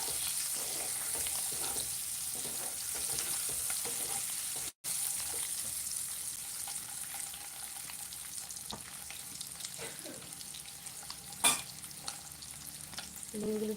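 Turmeric fries in hot oil in a pan for an egg bhuna, a steady close sizzle with light scraping and stirring clicks, one brief drop-out midway and a sharp clink near the end, no voices.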